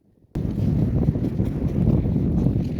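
Strong, steady wind from a desert storm in Kuwait roaring and buffeting the microphone after a brief quiet start, loud and continuous with gusty surges, battering tents.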